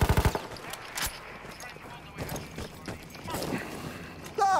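Video game gunfire in a multiplayer shooter, starting with a rapid close burst of automatic shots, then scattered quieter shots under excited voices of players talking.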